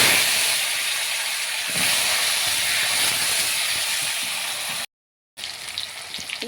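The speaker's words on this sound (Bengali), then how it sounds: "মাছ ভাজা তেলে গোটা জিরে, শুকনো লঙ্কা আর আছে তেজপাতা দিয়ে দিলাম।" Whole cumin, dried chili and bay leaf hit hot oil left over from frying fish, producing a loud, dense, steady sizzling hiss that briefly cuts out before resuming.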